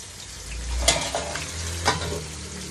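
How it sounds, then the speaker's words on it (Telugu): Masala sizzles as it fries in a pan over a low flame and is stirred, with a steady frying hiss and a few scraping strokes of the spoon, close and alone. "చూసారా ఫ్రై ఎలా చేస్తారు?"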